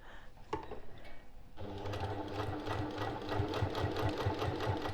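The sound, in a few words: sewing machine stitching a zipper pouch seam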